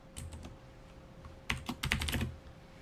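Computer keyboard keys clicking, a few scattered taps followed by a denser burst of quick presses, close and crisp over a faint steady hum.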